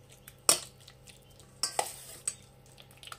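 Chicken is stirred with a mustard marinade in a bowl, giving a few sharp scraping and clinking strikes of a utensil against the bowl separated by quiet gaps, close and without talk.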